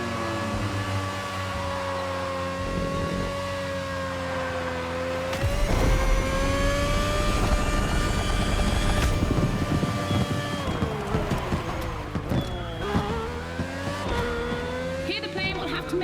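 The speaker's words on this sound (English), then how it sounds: "Here the plane will have to make very tight turns if it wants to keep up with the AGP" An AGP race car and a plane racing each other in The Crew Motorfest, the car's engine whining and shifting pitch as it revs and accelerates, with a rising roar and tire noise midway, loud and close throughout.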